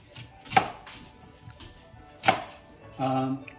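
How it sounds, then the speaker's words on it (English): An onion is cut with a knife, giving two sharp, separate chops on a board, with a brief clatter at the end and low room noise in between. "We're going to cut the onion."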